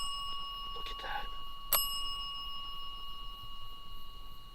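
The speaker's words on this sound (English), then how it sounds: "Look at the bell." A small bell rings briefly and faintly in a quiet room during a ghost investigation, one short clear strike amid low background hiss with steady electronic tones.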